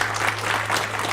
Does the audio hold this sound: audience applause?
yes